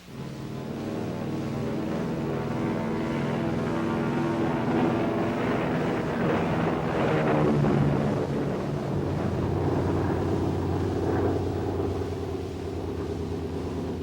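High-speed jet chase planes take off from an airfield to join a B-50 bomber carrying the X-2, a steady loud engine roar with rumbling rising and falling tones that swells and holds throughout, no voices.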